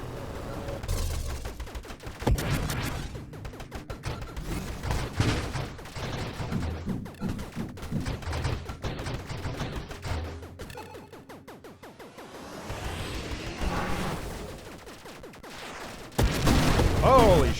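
Friendly turret firing in the space shooter Nova Drift: dense, continuous bursts of rapid shots and booms in a chaotic fight, rising and falling in intensity, with someone talking throughout.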